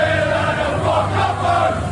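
Aston Villa fans fill a football stadium with a dense, steady roar of crowd noise, a loud and continuous wash of many voices with no single sound standing out.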